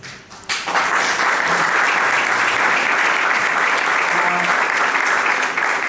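Steady, dense applause from a large audience, beginning abruptly after a brief quieter moment and continuing loudly throughout.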